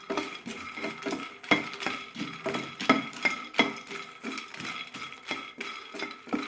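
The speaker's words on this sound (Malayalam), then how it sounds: "ലോ ഫ്ലെയിമിലിട്ടാണ് വറുത്തെടുക്കുന്നത്" Makhana (fox nuts) dry-roasting over a low flame in a pan, giving a busy rattling patter as the stirring spoon scrapes and knocks against the metal in quick irregular strokes, close by.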